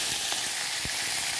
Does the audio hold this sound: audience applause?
no